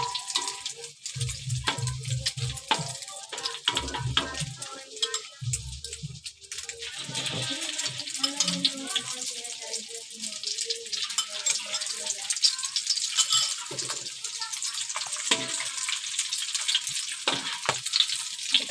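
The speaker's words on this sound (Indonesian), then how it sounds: "Minyaknya udah panas, langsung aja kita goreng ya perkedelnya." Egg-coated potato and meat perkedel patties fry in hot oil with a continuous bright sizzle and crackle, along with a few low clunks and some faint handling noises.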